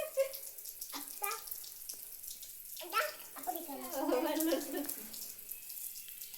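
Water runs steadily from a household tap as a soft, continuous splashing, with people talking over it.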